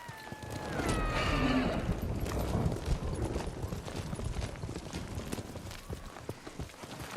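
A horse gallops in the video game Ghost of Tsushima, its hooves beating fast and rhythmically over a rough ground texture, with a whinny and a whistling tone near the start.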